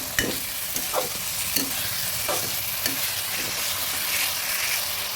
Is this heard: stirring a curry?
yes